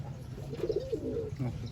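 Garia pigeons coo in a loft, a soft rolling call repeated a couple of times close by over a low background hum.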